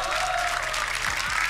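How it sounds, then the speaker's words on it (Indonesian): An audience claps steadily at a beatbox event, a dense, even patter of many hands heard for a moment over a continuous low hum. "Boleh tepuk tangan dulu?"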